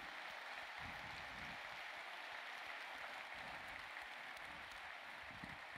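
Faint, steady applause from an audience, a dense patter of clapping that continues without pause throughout.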